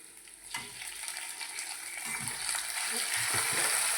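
Ginger-chili paste sizzles in a pan as it is fried for palak paneer, with steady crackling frying noise and a few scraping stirs toward the end, no talking.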